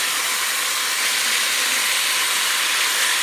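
Beef sears in a hot pan for a green chile dish, a loud, steady, bright sizzling hiss that stays even throughout, close up and with no talk.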